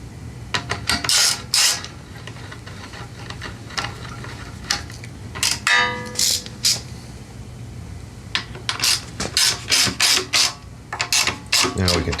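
Quarter-inch-drive ratchet clicking in short bursts as bolts are tightened on the carburetor of a Subaru 6.0 SP 170 pressure-washer engine, close and fairly loud, with pauses between runs of rapid ticks.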